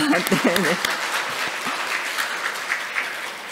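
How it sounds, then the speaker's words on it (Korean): An audience applauds at an internship results presentation and completion ceremony during a symposium. A voice is briefly heard at the start, then sustained, fairly close clapping from many people continues evenly to the end. "네, 박수 한번 보내주시죠."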